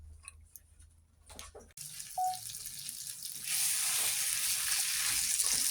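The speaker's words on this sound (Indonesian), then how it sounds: "Tumis hingga daunnya pada layu" Crushed galangal, lemongrass, lime leaves and bay leaves sauté in a pan, making a soft crackle that swells into a steady, loud sizzle after a few quiet clinks.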